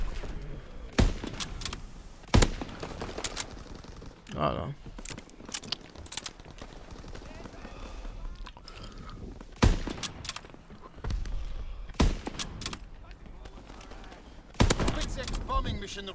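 Sniper rifle gunfire in the World War II shooter game Call of Duty WWII: several loud, sharp single shots spaced seconds apart, with quieter game noise and clicks between them.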